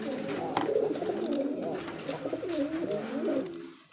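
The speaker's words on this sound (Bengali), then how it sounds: "আকাশি কালার মধ্যে দেখেন, ডাকবে কিন্তু নর।" A sky-blue male pigeon coos in repeated rolling, throaty phrases close by at a pigeon market, with faint background murmur.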